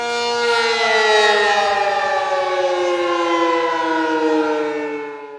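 A civil defense air raid siren sounds during an air defense drill, a loud, sustained mechanical wail holding a steady tone and then sliding slightly downward, heard alone without talk.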